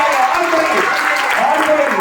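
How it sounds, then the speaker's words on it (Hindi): Classroom of students clapping in a steady, dense patter that fills the whole moment, fairly loud and close, with a voice mixed in. "जोरदार तालियां"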